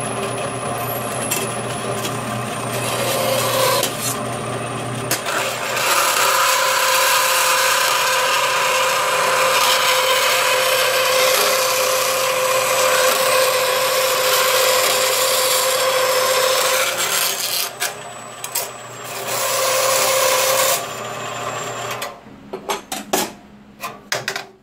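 Sustained sawing through a piece of steel being cut off, loud and steady for most of the stretch, tapering into a few scraping bursts near the end.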